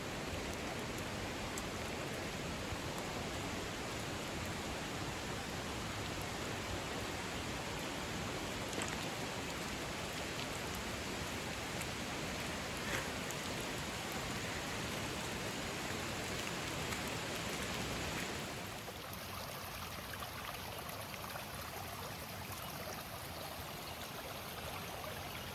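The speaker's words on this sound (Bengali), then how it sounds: "জানি না বৃষ্টির আওয়াজটা পাচ্ছেন কি না, কিন্তু ভালো রকম বৃষ্টি হচ্ছে।" Heavy rain pours steadily in the Himalayan hills, a dense, continuous close hiss that holds evenly for most of the clip before easing a little near the end.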